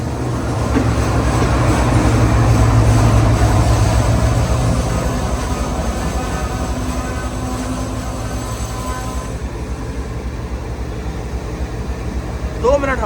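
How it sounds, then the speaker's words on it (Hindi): Pakistan Express with a GU40 diesel locomotive alongside a stopped passenger train at a station in Pakistan, a steady loud rail rumble and rolling drone that gradually fades, with voices talking over it. "यहाँ पर पाकिस्तान एक्सप्रेस से मुलाकात हो रही है। 9030 के साथ मौजूद है GU40 लोकोमोटिव।"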